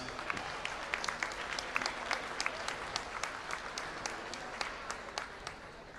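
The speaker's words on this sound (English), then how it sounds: "Let's give one more round of applause for our seniors, Jonah, Dom, Troy, and Niles." Applause from a crowd in a gym honouring seniors at a varsity basketball game, steady moderate clapping with individual sharp claps standing out throughout.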